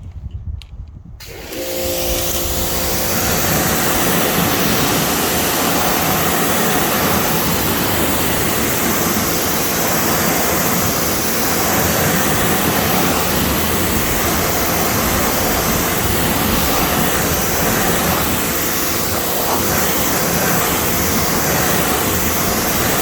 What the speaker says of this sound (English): So let me pressure wash this wheel off.